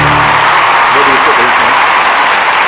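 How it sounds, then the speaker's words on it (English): Loud crowd applause for a speaker at a hospitality convention, a dense wash of clapping with voices briefly audible underneath. "Can we have a huge round of applause once again for him,"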